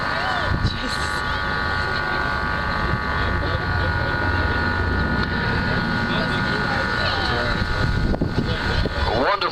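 Four Wright radial engines, each rated at 1,200 horsepower, drone loudly and steadily from a large piston aircraft at an air show in Dublin, with wind buffeting the microphone throughout.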